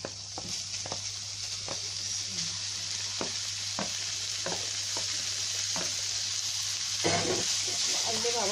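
Minced meat frying with zucchini in a pan, a steady close sizzle punctuated by repeated clacks and scrapes of a spoon stirring, growing a little louder toward the end.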